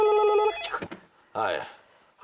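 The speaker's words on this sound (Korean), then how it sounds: "네, 전화 왔어요." A telephone rings with an electronic bell tone for about half a second, followed by a person talking close by.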